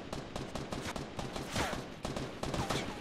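Gunfire in Fortnite Battle Royale, rapid bursts of shots in quick succession, loud and close, with no talk over them.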